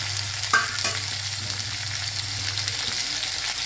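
Okra frying with cumin seeds in hot oil in a kadai makes a continuous close sizzle, with a couple of brief clinks and stirring scrapes near the start and no talking.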